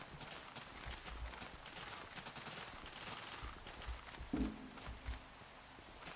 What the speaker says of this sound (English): Oh, I just heard a firework